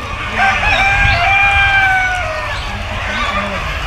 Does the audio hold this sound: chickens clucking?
yes